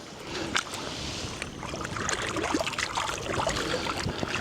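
A brown trout swished through shallow lake water at the shore, giving close, continuous splashing and trickling with scattered sharper splashes, outdoors with faint wind.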